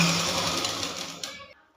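A sewing machine runs a seam on a princess cut blouse in a short, close burst of rapid stitching that fades out quickly.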